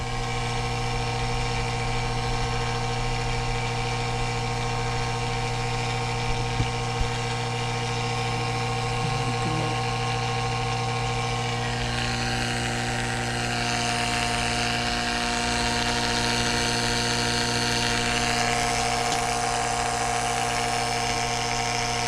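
A Makita cordless vacuum pump runs steadily with a constant motor hum and whine, close and unbroken for the whole stretch, apart from a couple of faint clicks.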